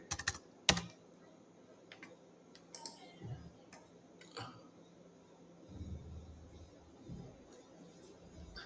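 Password typed on a computer keyboard during a MySQL setup, a run of light, close key clicks in irregular bursts with a couple of sharper taps, otherwise quiet with faint background hum.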